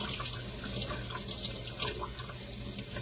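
Water runs steadily from a tap while diamonds are rinsed and washed by hand in a sink, a continuous close splashing hiss with no pauses.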